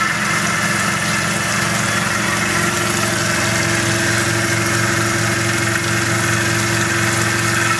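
A Tormach PCNC milling machine runs its spindle at 1000 RPM, cutting 20 thousandths wide at 20 inches a minute, giving a steady, dense mechanical hum and grind that holds unbroken throughout with no talk.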